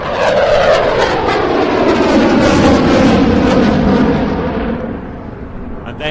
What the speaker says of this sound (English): The afterburner will be engaged as the aircraft turns away from us